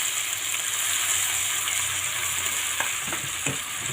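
Chorchori sizzles and frying hisses steadily in a pan as a little water goes in, with a few soft clicks and stirring scrapes near the end.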